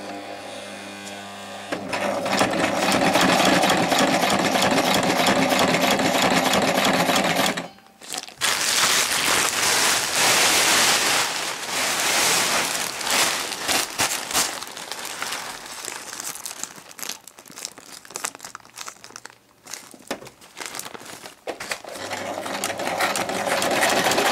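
A sewing machine stitches a seam along the edge of a kite's spinnaker fabric, running in loud, continuous buzzing bursts with short pauses and fabric rustling between runs.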